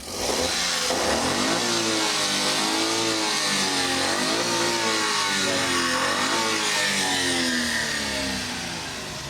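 A minivan's engine runs close by, droning steadily and loudly while its revs rise and fall in smooth, repeated swells, then settles slightly toward the end, with nobody speaking.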